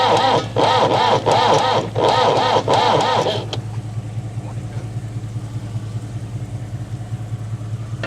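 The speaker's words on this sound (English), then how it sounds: "I don't think turning it over this slow it'll ever start." An old car engine cranks slowly on the starter, a loud rhythmic churning of about six labored turns that fails to catch, then a low steady hum with faint voices.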